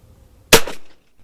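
A single sharp shotgun blast from a Rossi Match Pair outdoors, loud and close, with a quick decaying tail and otherwise quiet surroundings.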